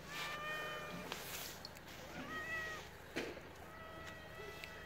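Several soft cat meows, some drawn out, rising and falling at a quiet distance over faint background noise, with no speech.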